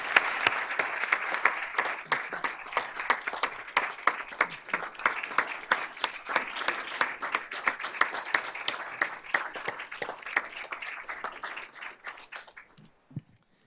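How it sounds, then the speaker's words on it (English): Sustained applause from an indoor audience of many people at a ceremony introducing members, a dense steady patter of claps that thins out and stops near the end. "Let's give them a round of applause."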